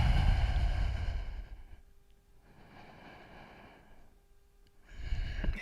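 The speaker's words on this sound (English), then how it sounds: "Breathe here." Slow, deep breaths during a yoga session: a long airy exhale followed by quieter inhales and another exhale, close and unaccompanied by talk.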